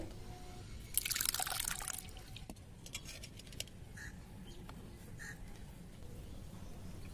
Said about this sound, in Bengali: খুব ভালো করে জলটাকে চিপে বের করে দিতে হবে যাতে একটু জল না থাকে